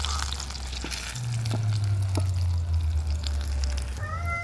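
Lentil and semolina fritters fry in a small amount of oil, giving a steady, close sizzle with a low bubbling hum and a few soft taps from a spatula.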